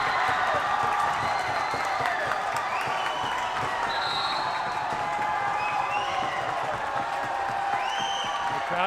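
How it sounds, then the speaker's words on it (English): A volleyball game crowd in a gym roars and cheers steadily and loudly throughout, with scattered whoops and whistles over dense applause. "The crowd goes wild."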